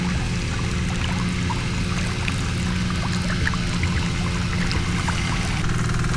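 Irrigation water running fast downhill through a channel, a steady close rushing and trickling wash that stays level throughout with no voices.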